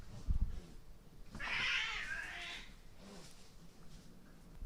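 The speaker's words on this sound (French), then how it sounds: "je crois qu'on a entendu des chats se battre" Cats fighting outdoors: a sudden strained yowl rises out of quiet background noise and holds for about a second, faint and some distance away, followed by a low hiss-like trailing sound.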